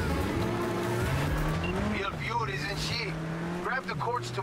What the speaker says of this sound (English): now I'm gonna steal your car.